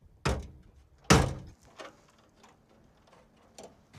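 Truck doors being fitted, a few heavy thuds of metal: two loud thunks close together early on, followed by softer knocks and taps, with no talking.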